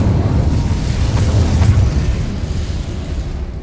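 An Incendio fire spell in the Hogwarts Legacy game erupts with a loud, sustained whooshing roar and crackle that fills the moment, then tapers slightly as it fades out.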